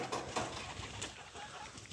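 Pigeons coo in an aviary alongside Java chickens, soft repeated low coos close by against a muffled background, unaccompanied by speech.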